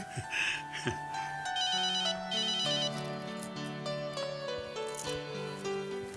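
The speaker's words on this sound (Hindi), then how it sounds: "चैतन्य का फोन होगा बेटा" A phone ringtone plays a bright, repeating melodic tune for several seconds, loud and close, with no voices.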